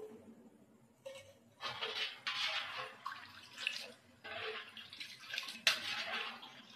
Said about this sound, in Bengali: এবারে আমি দুধ দিয়ে দেবো।